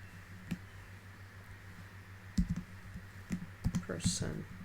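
Sparse clicks and short bursts of keystrokes sound on a computer keyboard as code is typed, quiet and close, with a faint steady hum underneath.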